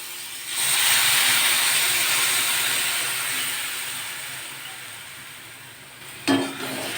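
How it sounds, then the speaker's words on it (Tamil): Rice-washing water poured into hot oil with frying ginger and brinjal raises a loud, steamy hiss that swells at once and slowly fades, with a sharp clatter near the end. "இப்போ நம்ம இந்த கழனி அதில் ஊற்றிடலாம்"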